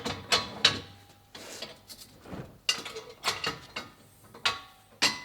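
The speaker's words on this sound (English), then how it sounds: "Slowly lower the hopper tank and place it on the machine." A hopper tank is lowered onto an Egholm CR 2260 machine, producing a series of close mechanical clunks, ratcheting clicks and metallic creaks in irregular bursts separated by quiet gaps, with no voices.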